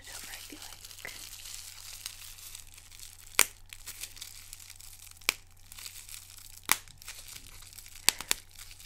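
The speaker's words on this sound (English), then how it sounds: "And more bubble wrap." Bubble wrap being folded and crinkled during a jewelry unwrapping, giving a soft continuous close crinkle with several sharp crackling pops spaced a second or two apart.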